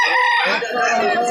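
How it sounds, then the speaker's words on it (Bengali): Chickens at a busy village poultry market cluck and call loudly and close by, one bird crowing, with faint crowd murmur behind. "দেখতে পাচ্ছ মুরগিগুলা,"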